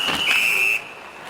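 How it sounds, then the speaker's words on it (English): A referee blows a whistle to stop play at an NHL ice hockey game between Montreal and Buffalo: one loud, sustained shrill blast that ends abruptly, with arena crowd murmur underneath. "Play is whistled down"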